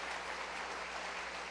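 A church congregation claps for the Lord in a brief, even wash of applause, soft and distant, with no single claps standing out.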